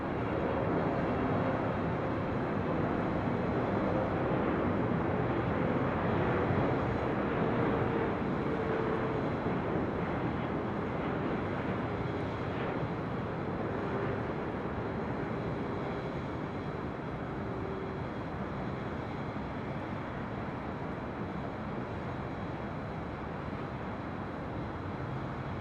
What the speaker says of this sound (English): The EVA Air Cargo 777 coming in from Taipei.